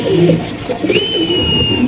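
A pigeon coos in low, throaty phrases close by, alongside a brief higher whistle-like tone, with no talking.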